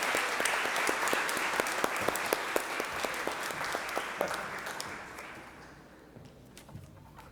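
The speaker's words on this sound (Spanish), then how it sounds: "¡Un fuerte aplauso!" A church congregation applauds at a Sixth Sunday of Easter Mass, steady dense clapping with a few sharper claps that gradually thins and fades toward the end.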